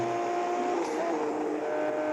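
An Aston Martin DB9 Coupé in a multiplayer racing video game, its engine droning steadily at high speed with a constant tonal whine and road rush throughout, no pauses.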